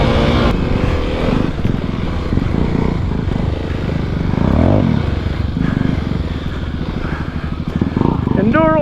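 A dirt bike engine held in first gear because it will not shift into second, droning loudly and continuously with rising revs under a rider's spoken commentary.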